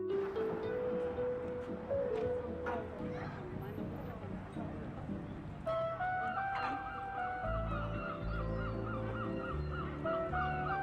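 Seagulls cry loudly and repeatedly in Flensburg's port on a Baltic Sea inlet, with ships and a waterfront promenade nearby; their harsh calls overlap steadily while a person talks in the foreground.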